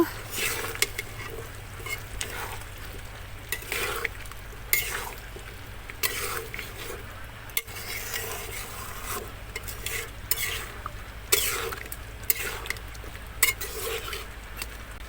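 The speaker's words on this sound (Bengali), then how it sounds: "আলুগুলো দিয়ে ভালো করে কষিয়ে নিব" Potatoes and beef liver are stir-fried in a pan, with repeated scraping strokes of a spatula over a low, steady sizzle, close by and with no talking.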